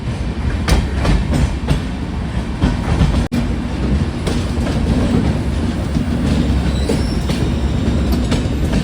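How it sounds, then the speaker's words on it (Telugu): A Mangaluru–Yeshwantpur express train rumbles into a roughly 112-metre tunnel, with a loud, steady roar of wheels and carriages heard from on board, plus faint clicks and a sudden thud partway through. "మళ్ళీ మన ట్రైన్ అయితే ఇంకో టన్నులకి అయితే ఎంటర్ అయిపోతుంది"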